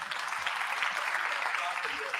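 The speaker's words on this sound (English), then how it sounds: "I request you to give a huge round of applause for global NRI forum" A crowd at a Global NRI Forum event in Boston gives a sustained round of applause, close and steady clapping, with a voice briefly heard over it near the end.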